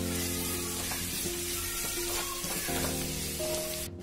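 A mixture being sautéed with salt in a hot pan, with continuous close sizzling and soft scraping stir movements throughout, no voices.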